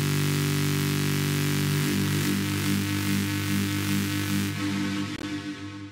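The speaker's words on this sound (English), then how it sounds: "it causes this really weird phasing thing with the white noise to kind of make this super distorted bass sound" A heavily distorted bass synth made from white noise with a weird phasing effect, built in Reason 8, droning loud and continuous with a wobbling, grinding texture before it cuts out near the end.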